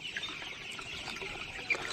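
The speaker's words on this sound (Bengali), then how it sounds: "আপনারা দেখতে পাচ্ছেন এগুলো টাইগার মুরগির বাচ্চা, গাজী কোম্পানি থেকে আনা হয়েছিল।" Tiger breed chicken chicks, sixteen days old, peep faintly in a quiet coop, with a few soft high chirps scattered over low background hiss.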